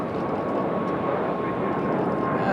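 A JetBlue Airbus A220 jet takes off at Raleigh-Durham International Airport, giving a steady, loud roaring rumble that holds constant throughout while a voice can be heard talking over it.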